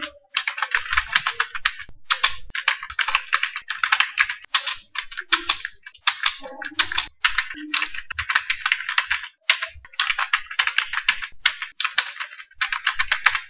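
HTML code is typed on a computer keyboard in quick, close clattering bursts of keystrokes, separated by short pauses, with no voice over it.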